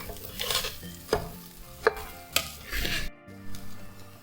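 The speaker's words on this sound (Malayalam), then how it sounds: "ഇത് നല്ല പോലെ അരി വിട്ട് വരുന്നത് വരെ വറുത്തെടുക്കണം." Rice roasting dry in a pan for a Malabar fish biryani, stirred with a spoon in several sharp scraping strokes and faint rustling, with no talk.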